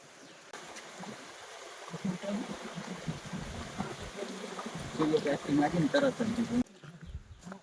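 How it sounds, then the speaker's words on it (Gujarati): Water flowing in a forest stream, a steady gurgling wash that rises and falls beneath fairly loud conversation for most of the stretch. "જો વહેતું પાણી છે"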